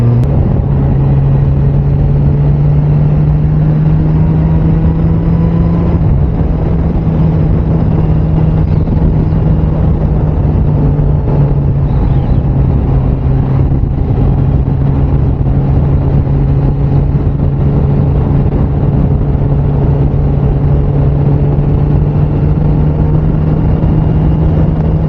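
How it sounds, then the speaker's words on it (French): A Suzuki Bandit 600 motorcycle rides along with a steady engine drone underneath heavy, continuous wind rush, the engine note holding a near-constant pitch with a slight shift early on. "je sais pas si vous allez bien entendre le bruit de la moto"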